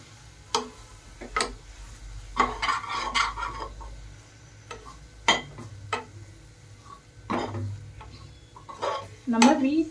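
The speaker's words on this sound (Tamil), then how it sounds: "இந்த மசாலாலாம் பச்சை வாசனை போகிற அளவுக்கு நம்ம கலந்து விட்டுக்கலாம்" Masala for chicken biryani being stirred in a pan, with irregular scraping and clinking strokes of a spoon against the metal, close and fairly loud, over a low background hum.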